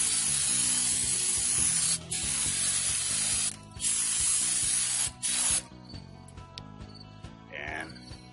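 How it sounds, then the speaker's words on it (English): Brake clean solvent hisses from an aerosol can onto the front brake surfaces of a 1996 Chevrolet K1500 Cheyenne in several close, loud bursts with short pauses between them, followed by faint clicks and rattles. "I usually try and spray the surfaces down with a solvent like brake clean"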